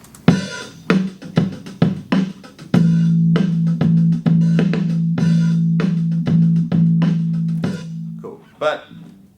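A bass guitar repeats one low note over a drum beat. A few separate plucks give way to a sustained, droning run of the same pitch, with sharp drum hits throughout, loud and close.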